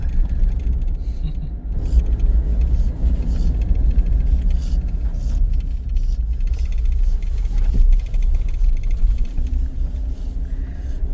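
A car speeding along a dusty road, with a constant low engine and tyre rumble and road noise that stays loud and unbroken from inside the vehicle.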